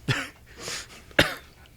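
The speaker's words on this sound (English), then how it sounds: "it was just a cough" A single short cough is heard during a tabletop fantasy game session, preceded by a softer throat sound; it is a close, brief burst with quiet room tone around it.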